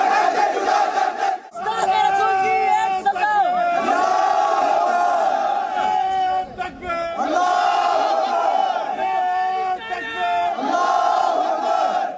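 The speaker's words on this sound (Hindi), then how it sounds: "टी राजा की गिरफ्तारी की मांग करते हुए भीड़ ने विवादित नारे लगाने भी शुरू कर दिए" A large crowd chants slogans demanding T Raja's arrest, loud massed voices rising and falling in rhythmic bursts with short gaps between shouts.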